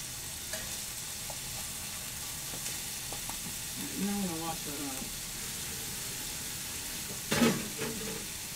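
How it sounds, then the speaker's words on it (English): Hamburger steaks sizzle on a grill with a steady, soft hiss of frying, while someone speaks briefly over it and a couple of faint clicks and bumps come through. "Now listen to that goddamn sizzle, huh?"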